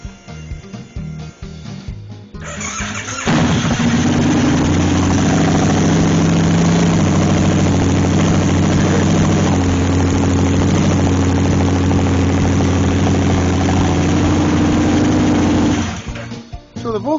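An Excelsior-Henderson Super-X motorcycle engine cranks and catches at about three seconds, then settles into a loud, steady idle that runs until it shuts off near the end.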